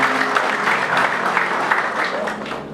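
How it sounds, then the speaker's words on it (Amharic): A welcome gathering applauds the couple Thomas and Betty and their attendants, a steady, fairly close wash of many hands clapping that holds throughout without pause. "እስኪ ለወንድማችን ቶማስ እና ለእህታችን ቤቲ በአጠገባቸውም ለተቀመጡ ለዛሬ አጃቢዎች እስኪ በደንብ አጨብጭቡላችሁ"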